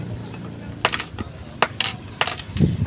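A few coins dropped one after another as a tip in a box, loud and close, at Boracay's mangroves, each drop making a bright metallic clink and rattle, with light movement noise between.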